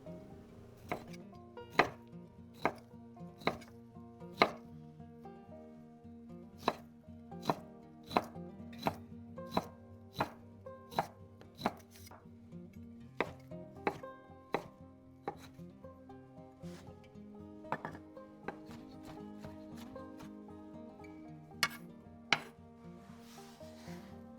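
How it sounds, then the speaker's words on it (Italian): Pancetta being chopped with a knife on a board, a run of sharp, close knife strikes in an uneven rhythm, some loud and some softer, over quiet background with no speech. "Tagliamo la pancetta."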